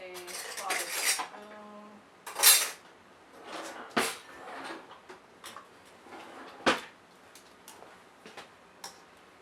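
A slotted spoon and dishes clink and clatter while kalua pork and cabbage are served, with sharp metallic knocks and scrapes at irregular intervals and quieter handling in between.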